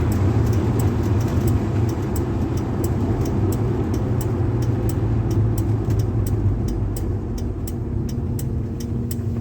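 A 1953 Ford F100 hot rod drives along with a loud, steady engine rumble and road noise filling the whole stretch, close and unbroken, with no talking.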